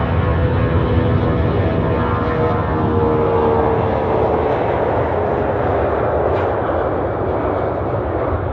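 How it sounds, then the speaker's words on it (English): A heavy Conviasa Airbus A340-200 jetliner taking off after a long runway roll, its four engines producing a loud, steady, broadband roar with a low rumble that holds at full strength throughout, with no voices. "A heavy Conviasa Airbus A340-200 uses almost the whole runway before finally lifting off."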